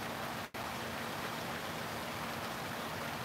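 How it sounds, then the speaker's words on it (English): Cold rain falls steadily on a fishing outing near St. Louis, Missouri, a constant dense hiss of drops with one brief dropout near the start. "It is a rainy weekend here, and it's a cold rain as well."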